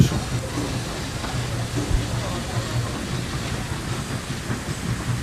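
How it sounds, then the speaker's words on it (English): An SY 2-8-2 steam locomotive hauls a train of cars back toward the Tangshan coal mine, a moderate, somewhat distant rumble and rattle of rolling wagons carrying on steadily. "Here goes a train back to the mine again."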